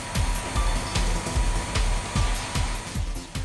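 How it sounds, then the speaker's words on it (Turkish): A cartoon vacuum cleaner runs with a steady loud whirring hum that pulses in quick repeated surges, close and alone with no talk. "Elektrikli süpürgeyle temizlemek çok basit."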